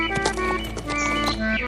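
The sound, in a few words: horse walking, hooves clip-clopping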